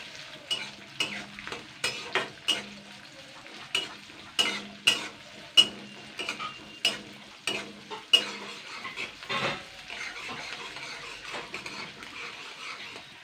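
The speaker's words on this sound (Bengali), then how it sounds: "এবার আমি কিন্তু সবার প্রথমে পেঁয়াজটা আগে একটু ফ্রাই করে নেব" Onions frying in a pan, a soft steady sizzle punctuated by a regular series of sharp spatula taps and scrapes against the pan, close up with no speech.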